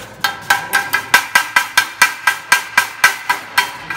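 Rapid, evenly spaced metallic taps as slag is chipped and cleaned off a fresh arc weld, about fifteen sharp close strikes with no talking.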